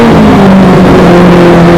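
Car engine revving loudly up close, a deep steady roar with slight pitch swells that fills the whole moment, no voices.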